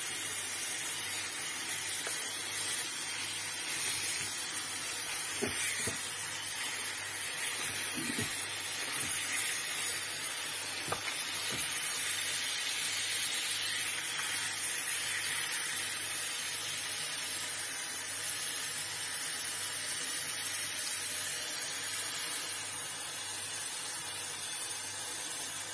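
Madımak (knotgrass) greens are rinsed under running water, a steady hissing tap stream with occasional faint clatters as the leaves are handled.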